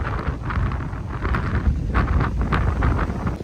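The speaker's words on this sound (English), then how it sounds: "the wind has just picked up massively" Strong wind gusts buffet the microphone on a rocky cliff top at Hanging Rock, a continuous loud roaring rumble that swells and eases with no voices.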